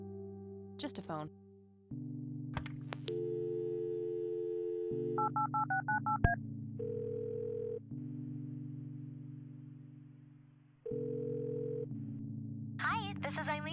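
Telephone in the Kathy Rain video game: a series of beeping dial tones tapped out one after another, followed by steady ringing tones under a low synth backdrop, with a brief burst of speech near the start and again near the end.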